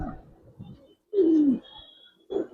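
Coloured fancy pigeons coo nearby, one clear falling coo standing out between softer low murmurs and a shorter call at the end, with no talking.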